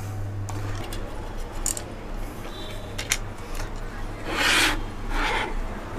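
Plastic cover being pried and scraped off an electric clothes iron during repair, with rubbing, rasping and small clicking sounds close up and a low hum underneath.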